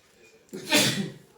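A single sharp sneeze, close and loud, after a brief quiet moment.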